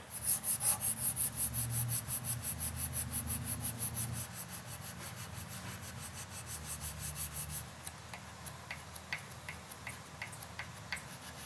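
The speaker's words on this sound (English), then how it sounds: "It is time to hand sand this blade." Steady rhythmic rasping strokes of hand sanding a steel knife blade made from chainsaw chain, loud and close for several seconds, then lighter scattered scrapes and ticks.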